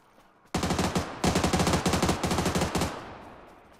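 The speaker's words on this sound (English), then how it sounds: "He just shot at my vest." Automatic gunfire in a video game rattles off in loud, rapid bursts of sharp shots with brief pauses between, then fades out in a lingering echo.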